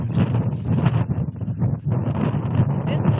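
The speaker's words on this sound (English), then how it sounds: "So windy." Strong wind in New Mexico buffets the microphone in loud, rumbling gusts, with muffled sounds and a faint high tone in the background.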